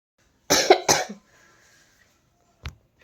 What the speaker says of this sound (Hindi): खांसी अभी बहुत ज़्यादा है